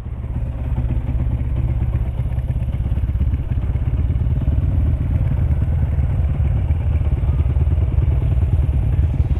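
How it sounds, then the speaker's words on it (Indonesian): A motorcycle engine warms up, idling on a cold day with a steady, close, continuous low rumble and mechanical clatter throughout. "Kita sampai manasin dulu ya soalnya udah banget dingin nih teman-teman."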